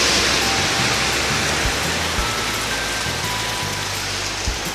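Sea surf heard from inside a parked camper van, a steady, unbroken broadband wash like rushing water with low rumbling underneath, continuous and fairly loud throughout with no voices.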